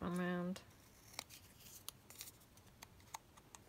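Scissors snip through book-page paper in a series of crisp, close cuts at an irregular pace, following a short voiced sound at the start.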